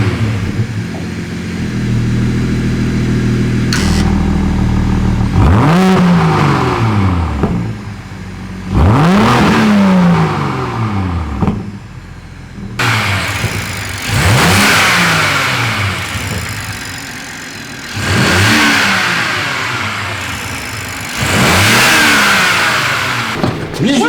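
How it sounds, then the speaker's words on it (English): BMW M240 Gen2 engine, still stock before a decat, cranks and starts, then revs in several sharp rising bursts that fall back to idle between them, loud and close with people talking now and then. "Chris is going to start it up. We're going to do a couple revs so you know what it sounds like"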